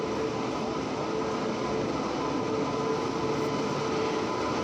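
The Bhrigu Superfast Express, hauled by a WAP-7 electric locomotive from Anand Vihar Terminal, rolls into the station with a continuous broad rushing rumble of wheels and carriages, steady and fairly distant, with a faint tonal whine.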